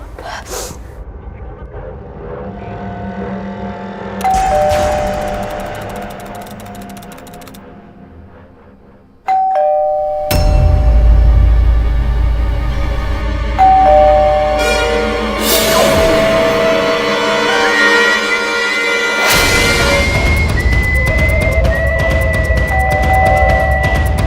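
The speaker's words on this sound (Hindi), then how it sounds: "कब से घंटी बज रही है, दरवाजा खोल" An electronic doorbell chimes several times in melodic ding-dong phrases, separated by pauses, with a brief gasp-like breath among the rings.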